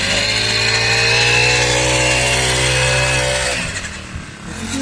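A petrol-engine soybean inter-cultivator weeder machine from Indian Agro Industries, Chakan, Pune, runs with a loud, steady close-up engine drone that drops off sharply near the end as the throttle is released.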